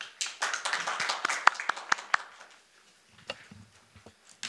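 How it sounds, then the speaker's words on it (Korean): Scattered hand clapping from a forum audience welcoming a panelist to a discussion session, a brief burst of sharp claps that thins out into a few isolated taps. "큰 박수 부탁드리겠습니다"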